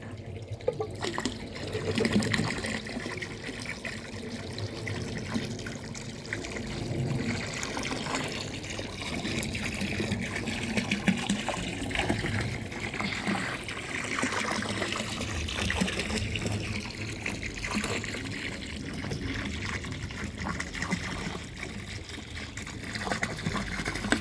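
Steady water trickling and splashing in a clear garden koi pond, a continuous close gurgling flow that runs alone without pause or talking.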